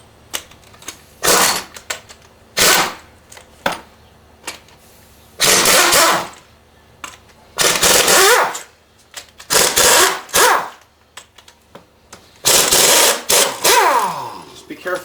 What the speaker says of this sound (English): So we're going to go ahead and take these cylinder head bolts out.